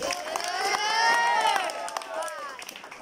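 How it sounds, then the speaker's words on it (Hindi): A crowd at a school annual sports day cheers and shouts, with children's high voices whooping and calling together in a loud, sustained burst that swells and then eases off. "जोरदार तालियां हो जाएंगी"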